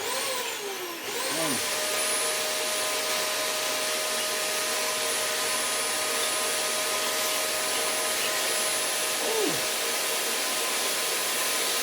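A vacuum cleaner with a long wand runs close by, its steady high whine starting after a moment and holding evenly throughout.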